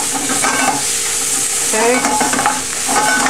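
Chili sauce sizzles and fries in a hot pan while being stirred, with steady crackling and scraping strokes close up; a voice briefly speaks.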